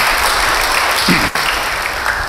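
A church congregation claps together in steady, fairly loud applause, with a brief dip near the middle before the clapping carries on.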